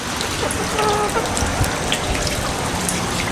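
Heavy rain from Hurricane Isaac pours steadily onto surfaces on a goat farm, a dense, loud, unbroken hiss with scattered drip and splash details and faint animal sounds behind it.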